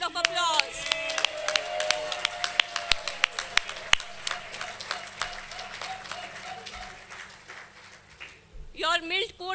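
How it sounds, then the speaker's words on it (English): Audience applauds new graduates at a course grand finale, a dense spread of claps running nearly the whole stretch at moderate loudness, then fading, with a voice briefly talking near the end. "Let's give you all a huge round of applause."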